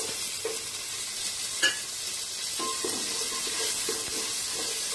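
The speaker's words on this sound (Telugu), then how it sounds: "పచ్చిమిర్చి వేగిన తర్వాత ఇందాక నానబెట్టుకున్న జీడిపప్పుని వేసుకుని వేయించుకోవాలి" Soaked cashews frying in hot oil with green chillies for carrot rice, a continuous close sizzle with a few scraping stirs and light clinks, no talking.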